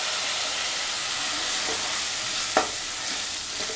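Spiced mutton curry masala sautéing in oil in a pan, a steady soft sizzle with a faint stir or clink partway through, no voices.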